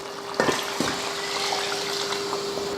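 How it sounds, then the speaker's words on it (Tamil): Water poured from a cup into a pot of Ambur chicken biryani, a steady splashy pour with a couple of sharper splashes near the start, close and fairly soft. "அதில் தான் தண்ணி சேர்த்துக்கிறேன்."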